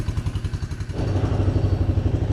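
A classic Honda Big Red three-wheeler, just revived after years of storage, runs close by with a rhythmic chugging engine pulse that rises in pitch and steadies as it pulls away.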